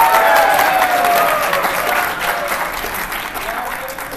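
A lecture hall audience at a university programming class breaks into loud, sustained applause that slowly thins out, full and close throughout.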